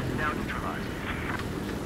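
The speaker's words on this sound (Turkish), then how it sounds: "Uçak yakınından geçiyor şey." An airplane passes close by in the video game Battlefield 4, a brief rushing engine whoosh with no voices over it.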